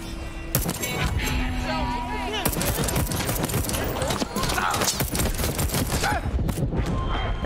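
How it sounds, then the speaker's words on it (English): Rapid repeated bursts of pneumatic nail gun fire in the video game Deathloop, loud and dense over a continuous busy game soundscape with music and effects, with speech-like voices mixed in. "By gun, I mean the nail gun,"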